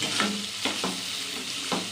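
A spoon scrapes and stirs vegetable poriyal in a pan on the stove, a few distinct clacking strokes over a soft sizzle of frying.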